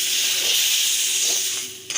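Wheat flour (atta) roasts with milk in a pan over medium flame for atta barfi, producing a loud, continuous steamy hiss that fades slightly toward the end.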